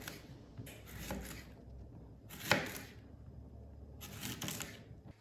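A knife cuts through firm zucchini in three separate bursts of crisp slicing strokes, close by, with quiet pauses between them.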